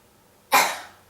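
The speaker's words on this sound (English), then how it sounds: "coughed covering his mouth" A child gives a single short cough into a covered mouth, sharp and close, breaking an otherwise quiet moment.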